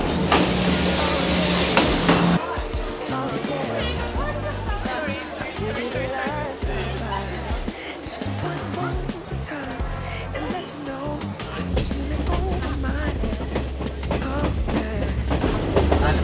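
A Kandy to Ella train in Sri Lanka rumbles along with clattering carriages and a loud hiss at the start, a continuous mix of rail noise and mechanical clunks throughout.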